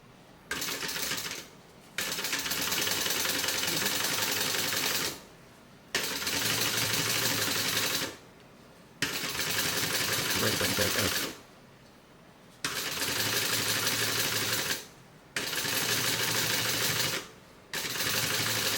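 A sewing machine top stitching a bag runs in six loud, steady bursts of stitching separated by short pauses, with no talking.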